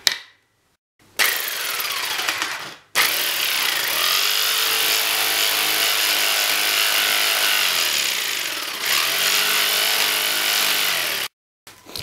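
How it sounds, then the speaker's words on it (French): A wooden bow blank is being cut along its traced grip outline with a saw, making a loud, steady rasping roar that runs for long stretches, broken by brief pauses, with no talk. "vous n'avez plus qu'à scier"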